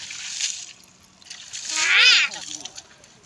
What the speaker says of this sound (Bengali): ছোটো ভাই পানি দিয়ে বাইকটাকে ধুয়ে দিচ্ছে